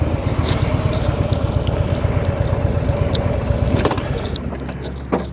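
A motorcycle engine, heard during a rider-training exercise, drones at a steady, fairly loud pulsing level for several seconds, with a few clicks and knocks near the end and no talk.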